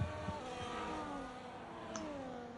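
Race cars in an online sim racing league event, one car overtaking another on track; steady engine drone with a rising whine as the pass happens, moderately loud and continuous with no talk.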